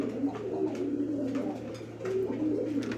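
Red Rasgolla pigeons coo softly in low, rolling bursts over a steady background hum, several calls repeating across a few seconds with no voices.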